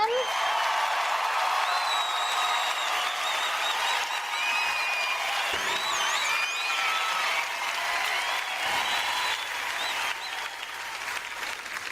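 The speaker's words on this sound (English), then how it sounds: "And here the applause again." Applause at a startup competition finals after second and third place are announced, sustained crowd clapping lasting the whole stretch, fairly loud and even, thinning slightly near the end, with faint cheering mixed in.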